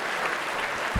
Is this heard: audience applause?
yes